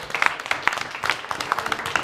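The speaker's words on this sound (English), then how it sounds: "A round of applause." A small audience claps in a brief, scattered round of applause after a stage hypnosis session, with sharp uneven hand claps close by and some faint voices mixed in.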